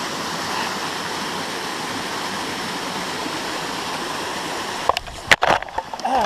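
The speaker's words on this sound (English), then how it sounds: "Little waterfall up there you can't really see" Steady rushing water from a small waterfall and stream on Black Rock Mountain fills the air, then a few louder splashes and knocks break in near the end.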